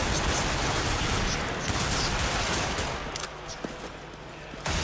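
MP7 submachine gun fire in a Counter-Strike: Global Offensive match, rapid crackling bursts layered into a dense, continuous barrage of mixed gunfire that thins slightly toward the end.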